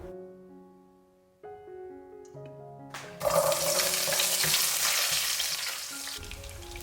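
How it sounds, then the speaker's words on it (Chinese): Oil heating in a wok before doubanjiang and hotpot base go in for stir-frying pork intestines: a loud, steady broadband sizzle that erupts abruptly about three seconds in and holds to the end, after a quieter tonal stretch. "重新起锅热油"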